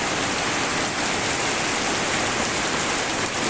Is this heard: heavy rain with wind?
yes